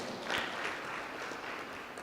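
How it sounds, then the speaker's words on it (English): An audience at a Bowen University town hall meeting gives a moderator a round of applause, a dense, even wash of clapping that holds steady for about two seconds. "A round of applause for him"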